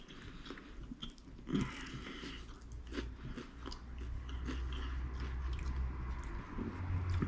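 Close, steady chewing of a hard, partly cooked Weet-Bix coated in sweet chili sauce, with crunchy bites and wet squishing continuing throughout.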